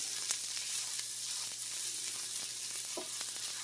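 Onions and flour for an onion gravy sizzle in a pan, an even, close frying hiss with occasional light scrapes from stirring.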